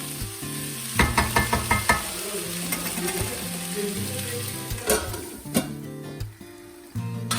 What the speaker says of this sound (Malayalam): എന്നിട്ട് ഒരു 2 തക്കാളിയും കുറച്ച് പച്ചമുളകും കൂടെ ചേർത്തിട്ട് വഴറ്റിയെടുക്കുകയാണ്.